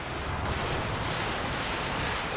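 Artillery barrage in Company of Heroes 2, a dense continuous roar of rumbling blasts and crackling impacts filling the whole stretch, loud and close with no talk over it.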